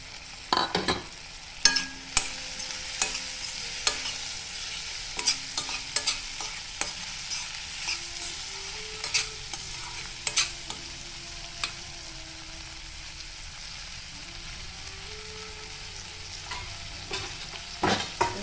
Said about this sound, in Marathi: आता आपण त्यात टाकतोय मटार.